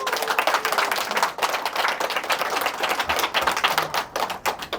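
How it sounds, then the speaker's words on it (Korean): Audience clapping at a health seminar in Korea, close and fairly loud, with uneven bursts of many hands that swell and dip in rough waves. "자신한테 다시 한번 응원의 박수를 한번 쳐주시기 바랍니다."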